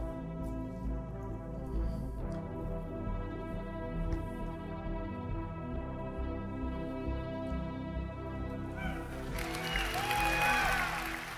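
Crowd applauding at a Star Citizen game engine presentation, a steady wash of clapping over a loud tonal music bed that runs throughout, swelling toward the end.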